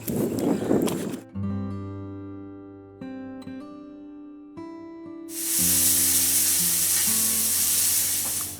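Crucian carp sizzling loudly in a hot frying pan, cut off by a short musical passage of sustained tones before the sizzling returns strong.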